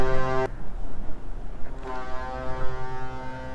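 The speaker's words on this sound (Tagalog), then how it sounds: "Nagput-put na yung barko." Ship horn sounding at a ferry port, a deep loud blast that cuts off after half a second, then a second long blast starts and holds to the end over low background rumble.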